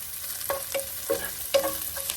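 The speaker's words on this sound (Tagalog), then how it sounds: "Palagi lang nating haluin para hindi masunog yung ating bawang." Garlic is stirred and fried in a pan for a tofu, broccoli and green bean stir-fry. A constant sizzle is broken by several sharp spatula scrapes and knocks at an uneven pace, with no voices.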